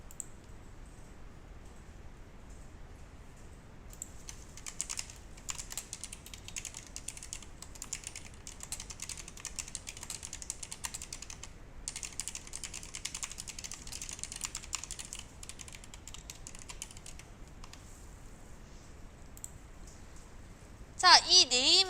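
A computer keyboard is typed on in soft, quick clicking runs, faint and continuous, with brief gaps and a sharper burst of keystrokes at the end; a voice talks quietly at times.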